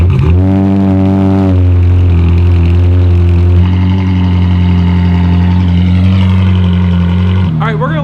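Ferrari 458 fitted with straight pipes fires up loud and close, settling into a steady, droning high idle with strong harmonic layers and a sharp rev rise at the end.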